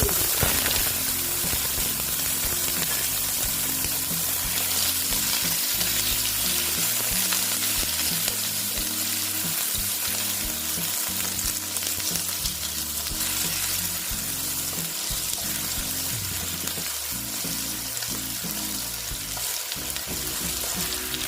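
Potatoes and mixed vegetables frying together in a pan of oil tempered with panch phoron, a dense, even sizzle like rain that runs on without a break, with faint stirring underneath.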